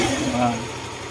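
A Yamaha Mio 125 scooter engine, previously starved of oil, idles at a steady low, even rumble with no knocking, while a voice is heard faintly over it.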